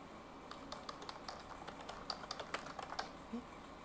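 Soft, irregular clicks of fingers typing on a computer keyboard, quiet and close, a steady patter of keystrokes with no voices.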